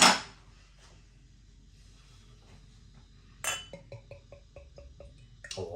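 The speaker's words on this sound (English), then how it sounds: "it's a nice glug on the bottle" Sour passionfruit craft beer from Pivovar Zichovec is poured from a big bottle into a glass, heard as a burst of splashing, then quiet trickling and a later run of rhythmic gulping glugs with light glassy clinks, fairly close and soft.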